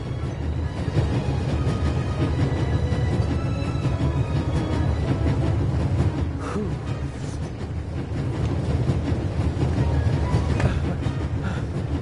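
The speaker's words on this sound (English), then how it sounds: "There's nothing quite like traveling on a train." A passenger train rolling along in the video game The Raven Remastered, producing a steady, close rumbling drone with a faint rhythmic clatter of wheels that continues unbroken throughout.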